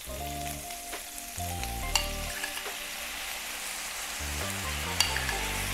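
Teriyaki sauce poured over burger steaks in a hot pan sizzles and crackles steadily and close, with soft background music and no talk.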